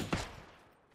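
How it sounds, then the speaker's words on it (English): Gunfire in PUBG on the Sanhok map on console: one sharp, loud shot bursts out near the start, then a long echoing tail fades away across the rest of the second. "You see how I'm just like shooting the odd bullet?"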